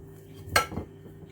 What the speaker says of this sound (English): So we're going to grease the pan beautifully.